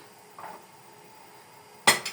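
Dirty kitchen utensils and cutlery being moved aside toward a dishwasher, a faint clink early on, then a sharp, close clatter of metal and dishes with a softer second rattle.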